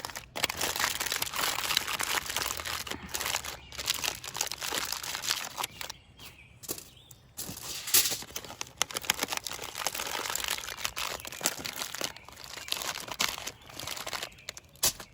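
Aluminum foil crinkles and crunches steadily as it is rolled and folded around shrimp and kielbasa into a campfire foil pack, close-up and continuous with a brief quieter pause midway.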